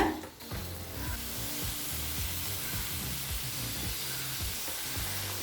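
Peeled, cut ridge gourd pieces drop into a hot pan with a sharp rattle, then settle into a steady, close crackling sizzle of frying that holds evenly throughout, with no voices.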